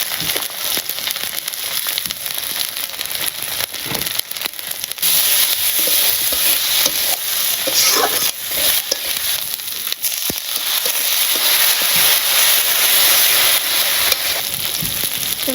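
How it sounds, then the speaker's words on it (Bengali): Ginger, garlic and onion paste sautéing with salt, turmeric and chili in a pan in a village kitchen, a close, continuous sizzle with crackling pops and occasional stirring scrapes. "সব কিছু কষিয়ে নিচ্ছি"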